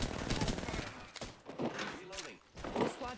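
Gunfire in the battle royale game Apex Legends, bursts of rapid shots crackling close by in several clusters, with a voice talking over parts of the exchange.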